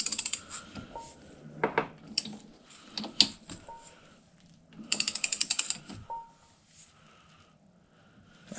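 Torque wrench ratcheting close by while tightening a polyurethane engine mount bushing on an MK4 Jetta TDI, with bursts of rapid metallic clicks and separate short clanks between them.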